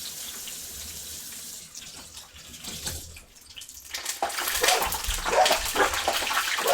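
Hands are rinsed under a running kitchen tap, water splashing and gurgling nearby and growing louder and more turbulent toward the end.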